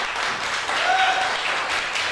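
An audience at a media show applauds a young artist, a dense wash of clapping at moderate distance with a brief whistle in the middle.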